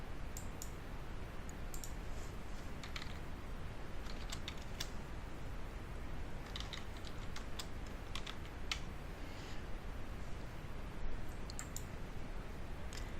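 Typing on a computer keyboard with scattered mouse clicks while adding a description to a header, steady quiet keystrokes in irregular bursts over faint background hiss, no voices.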